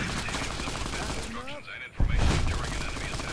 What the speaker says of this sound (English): They're still shooting at him.